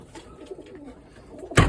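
Soft, low pigeon coos murmur quietly in the background, ending with a sudden loud rustle or thump close by.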